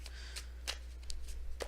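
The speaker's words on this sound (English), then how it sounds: "One good shuffle." One quick shuffle of a tarot deck, a few soft, close card riffles and flicks over a steady low electrical hum, with no talking.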